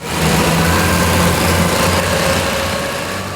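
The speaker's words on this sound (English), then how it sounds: "One of the highlights of the winter show was the old-fashioned tractor pull." A loud, steady tractor engine roar at an old-fashioned tractor pull at a winter show, with deep low rumble, continuous throughout and close by.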